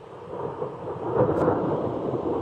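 Thunder sound effect with rain: a low, rolling rumble that swells over a steady hiss of falling rain and then holds, heard alone with no voices.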